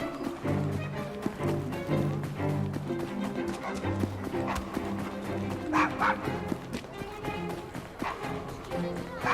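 A dog barks in the video game Assassin's Creed Syndicate, short yips and woofs mixed into a dense, steady bed of game music and ambience with a voice speaking over it.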